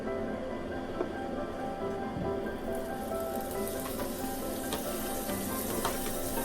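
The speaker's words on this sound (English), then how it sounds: "I'm gonna get some butter in the pot over here, melted" Butter melting and sizzling in a preheated pot on a stove set to 5, a steady close crackle and fizz with faint stirring scrapes, continuous throughout with no talking.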